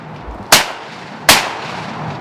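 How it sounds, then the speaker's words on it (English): Two loud shotgun-style blasts fired at a bird during a hunt outdoors, about three quarters of a second apart, each a sharp crack followed by a short fading rumble. "You shot him freaking 80 yards."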